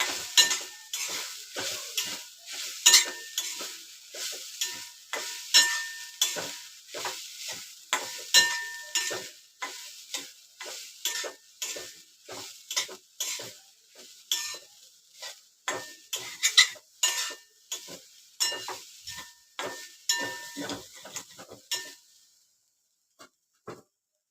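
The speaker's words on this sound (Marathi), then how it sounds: "तुपावर ना थोडंसं ओलं खोबरं अगोदर फिरवून घ्यायचं आणि हे ओलं खोबरं फिरवून घ्यायचं" Fresh grated coconut roasting in ghee is stirred in a pan, with repeated scraping strokes of a spoon against metal over a steady sizzle, close and fairly loud, stopping near the end.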